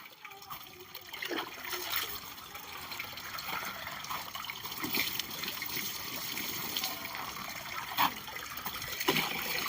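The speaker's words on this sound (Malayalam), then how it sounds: "ഇനി കുറച്ച് വെള്ളം കൂടെ ഒഴിച്ചു കൊടുക്കാം." Water is poured onto a miracle fruit plant newly set in a low-cost grow bag, a continuous close trickling splash with a few brief spattering bursts.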